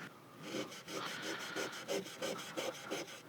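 Steel wool scrubs heavy corrosion off a guitar fretboard in quick, even back-and-forth strokes, making a soft rhythmic rasp. The sound is close and fairly quiet.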